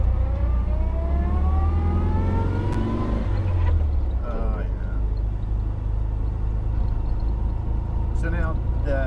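A 1955 Volkswagen convertible's engine drones and rises in pitch as the car accelerates on the road, a close, continuous rumble under people talking.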